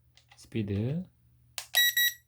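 An SG906 Pro drone controller gives short electronic beeps after its speed button is pressed, a brief high pip at the end following a voice speaking nearby.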